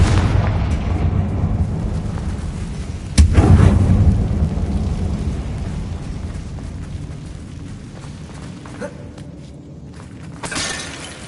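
Confringo fire spell explosions in Hogwarts Legacy, a sharp blast followed by a rolling, decaying rumble over a constant noisy background, with a softer second burst near the end.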